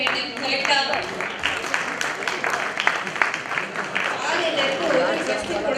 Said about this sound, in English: I'd like to give a big round of applause for a fantastic panel